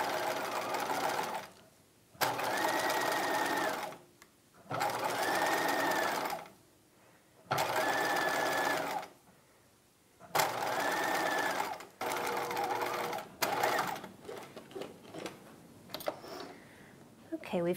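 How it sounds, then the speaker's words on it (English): A sewing machine stitches a dress hem in repeated bursts of about two seconds each, separated by short pauses, loud and near, with a voice speaking between some runs. "Okay, we've completed that line of stitching."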